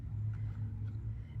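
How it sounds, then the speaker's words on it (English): A low, faint rumble of cars going by on a road close to a house, steady and distant-sounding, with no speech over it. "Sorry, I live close to a road, so you may hear some cars going by."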